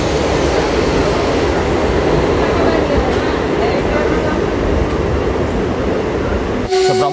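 A MEMU passenger train between Berhampur and Bhubaneswar runs on its rails with a loud, steady rumble and rattle that lasts throughout, and a brief tonal squeal rises near the end.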